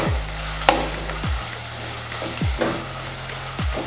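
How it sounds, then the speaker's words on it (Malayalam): Chopped ginger fries in a pan under a constant hiss. A spatula stirs it in slow, regular sweeps, each stroke a low scraping rumble roughly every second and a quarter, close and fairly loud with no speech. "ചോപ്പ് ചെയ്ത് വെച്ച ഇഞ്ചി നമുക്കിതിലേക്ക് ആഡ് ചെയ്യാം. അതിനുശേഷം ഒന്ന് ഇളക്കുക."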